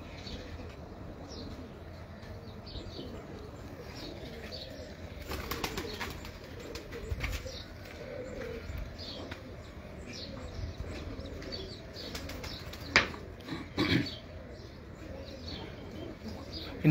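Racing pigeons return to a loft in Karachi during a race, soft repeated cooing and chirps over a steady outdoor background, with bursts of wing flapping in the middle and near the end.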